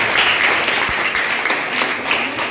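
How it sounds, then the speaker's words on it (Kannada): Loud applause for the teachers at a school science exhibition in Kanabargi, Belagavi, a crowd clapping steadily and densely for a few seconds. "ಒಂದು ಜೋರಾದ ಚಪ್ಪಾಳೆ ತಟ್ಟದ ಮುಖಾಂತರವಾಗಿ"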